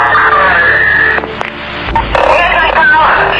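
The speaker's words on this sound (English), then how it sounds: "just static, then silence" Loud, harsh radio static hisses and crackles with abrupt shifts in texture, including a brief dip and a burst of broadband noise, before cutting off abruptly at the end.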